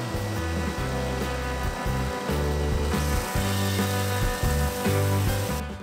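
A random orbital sander drones steadily and loudly throughout, sanding epoxy resin and wood, with a rough buzzing hum that wavers slightly as it moves across the surface.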